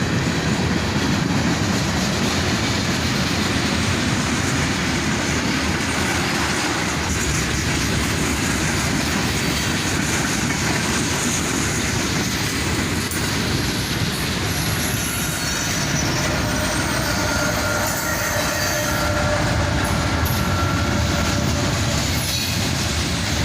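CSX freight train with several locomotives, including a mid-train DPU, and green Procore tank cars rolling steadily past close by, a continuous loud rumble with wheel squeal and rail clatter throughout.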